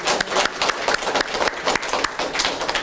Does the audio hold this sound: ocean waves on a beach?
no